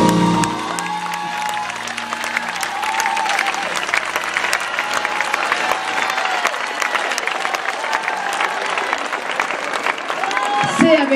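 Concert crowd at a show in Parco Belloluogo, Lecce, applauding at length. Broad, sustained clapping from a large audience holds steady throughout, with scattered voices and cheers mixed in.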